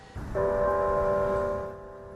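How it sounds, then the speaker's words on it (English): A church bell rings with a sustained, resonant tone that swells in and slowly fades, heard alone at moderate loudness, part of bells rung 49 times throughout a city. "church bells rang 49 times throughout the city"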